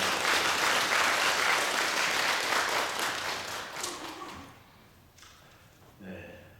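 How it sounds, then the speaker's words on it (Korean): A large church congregation claps steadily and loudly for several seconds, the applause fading out toward the end as a voice begins speaking. "우리 박수로 한번 감사."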